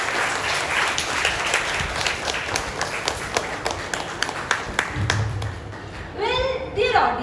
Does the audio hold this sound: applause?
yes